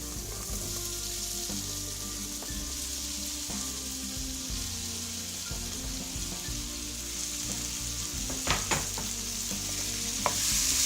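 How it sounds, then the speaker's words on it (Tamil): Mushrooms sauté with tomatoes in a pot for a mushroom biryani: a steady, close sizzle runs throughout, broken by scattered clinks and scrapes of stirring that grow busier toward the end, with no voices. "இந்த மஷ்ரூம்ஸ் நல்லா வதங்கணும்."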